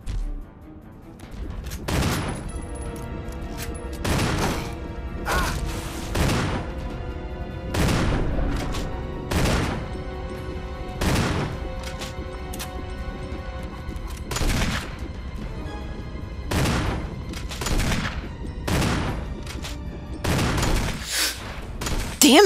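In Resident Evil, shots are fired at a monster's heart: about a dozen loud, close gunshots come at irregular gaps of one to two seconds, each sharp crack followed by a short ringing tail.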